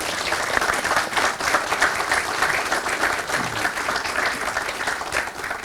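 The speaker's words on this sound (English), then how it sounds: "A big round of applause for everyone." Sustained applause from an audience at a business school event, steady and fairly loud throughout with dense overlapping claps and no break.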